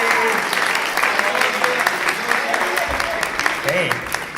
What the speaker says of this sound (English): And another round of applause for Chloe!